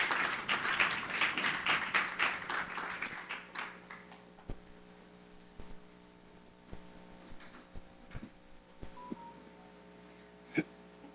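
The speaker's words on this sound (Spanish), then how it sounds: "Vamos a recibir con un aplauso de honra al pastor Ricardo Fuentes, así es que recibamos." A church congregation claps for the pastor at a Sunday service, a dense burst of applause for about four seconds that quickly fades into scattered claps, thumps and faint room noise.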